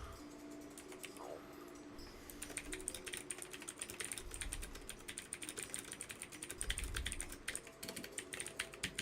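Rapid typing on a computer keyboard during a coworking session, a steady clatter of close key taps running continuously over a noisy room background.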